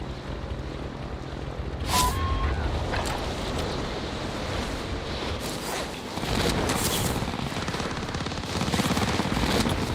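An MG42 machine gun fires in a video game, its bursts scattered across a loud, dense backdrop of continuous noise, with no speech heard.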